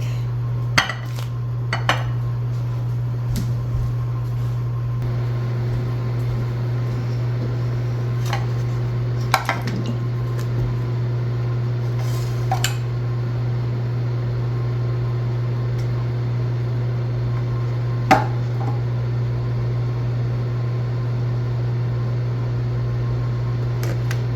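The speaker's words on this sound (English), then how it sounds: "stick it in my microwave where it can be melting" A microwave oven hums steadily with a low drone while melting a stick of butter, and occasional clinks and taps of dishes sound nearby.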